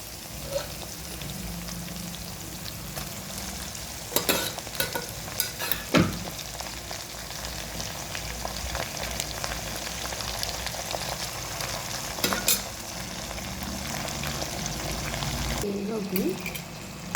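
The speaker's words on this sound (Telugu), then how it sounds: "ఉల్లిపాయ వేగిన తర్వాత ఉడకపెట్టిన చిక్కుడుకాయలు వేసుకున్నాం ఇది చిక్కుడుకాయ ఫ్రై అనమాట" Boiled broad beans stir-fried with browned onions in a pan, a sustained sizzle broken by several clanking scrapes of a spatula, close and steady throughout.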